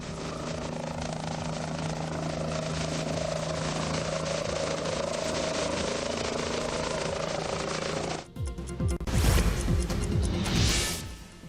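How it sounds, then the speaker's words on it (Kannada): Loud, steady whirring drone of a helicopter engine and rotors during takeoff, then an abrupt cut to rougher rushing wind and thumping near the end. "ಹೆಲಿಕಾಪ್ಟರ್ ಟೇಕ್ ಆಫ್ ಆಗುವಾಗ ಸಮಸ್ಯೆ ಉಂಟಾಗಿರುವಂಥದ್ದು"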